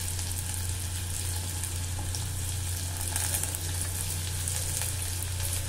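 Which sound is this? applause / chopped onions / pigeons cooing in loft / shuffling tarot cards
chopped onions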